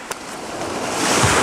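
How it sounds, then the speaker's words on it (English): Large ocean waves wash and roar in a steady broadband rush that swells louder toward the end, close and continuous with no voices. "The waves are just a little too big out there this morning"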